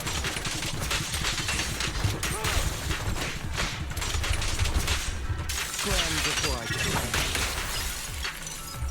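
Gunfire and flashbang blasts in a video game, a dense continuous barrage of sharp cracks and bursts with a shattering edge, loud throughout, while someone talks over it.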